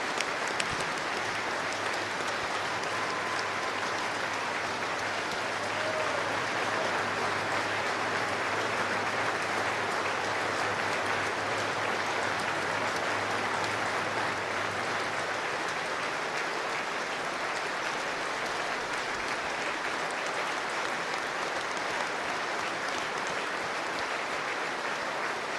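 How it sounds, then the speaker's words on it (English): Stadium crowd at a Leeds Rhinos versus Hull KR rugby league match giving a minute of applause. Dense, loud clapping carries on steadily and without a break from start to finish. "And the minute of applause starts right now."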